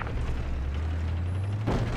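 A heavy weapon fires in Battlefield 4 with a low, droning rumble of armor under it and a sharp, booming shot near the end of a short moment.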